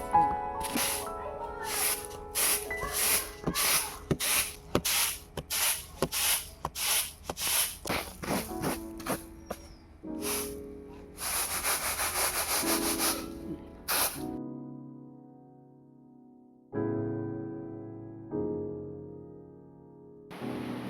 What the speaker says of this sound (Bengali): প্রথমে সর্ষেটাকে কুলোয় ঝেড়ে নেব, যেহেতু সর্ষের মধ্যে অনেক নোংরা আছে